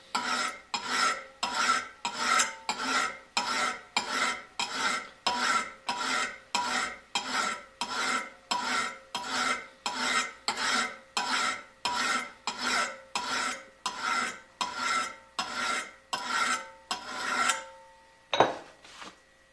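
A single-bevel steel broadhead is sharpened with a file, with about two dozen evenly spaced rasping strokes in a steady rhythm, close and clear, ending in one sharper scrape.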